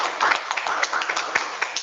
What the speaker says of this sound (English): Can we just give Richard a quick round of applause, please?